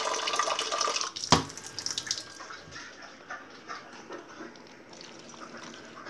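Half a cup of water poured into a cooking pan with sausage while making hot dogs: a steady, fairly loud splashing pour for about two seconds, then softer trickling and bubbling as it settles.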